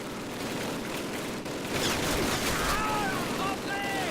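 Thompson submachine gun firing in the World War II shooter Call of Duty, a dense rattle of rapid automatic shots blending with loud battlefield noise that fills the clip, with a voice heard speaking over it.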